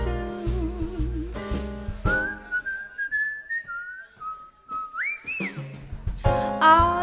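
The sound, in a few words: whistling a little tune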